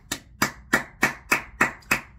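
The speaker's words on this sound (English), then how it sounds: "I'm going to give him a quick clap on that" Seven quick, crisp hand claps in an even rhythm, close and fairly loud, with no other sound around them.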